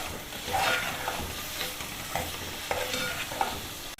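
Minced meat (keema) fries in a pan while being stirred, a close, steady sizzle broken by several sharp scraping strokes of the spoon, with no voices.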